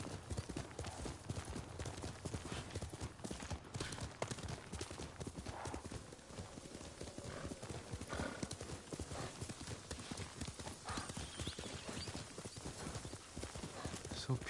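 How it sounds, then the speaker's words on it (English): A horse in the video game Ghost of Tsushima clip-clops along in a fast, steady hoofbeat rhythm throughout, with an occasional whinny and a voice speaking over it. "I wish the horse could ride faster."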